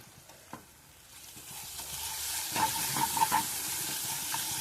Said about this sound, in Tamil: ஒரு 1/2 டீஸ்பூன் மஞ்சத்தூள் போட்டு கிண்டுவோம்.